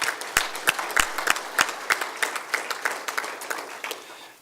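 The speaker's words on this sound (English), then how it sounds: "Give them a round of applause." Audience applause at a fire department meritorious awards ceremony, with steady clapping from a crowd and some sharp individual claps standing out, sustained and moderately loud throughout.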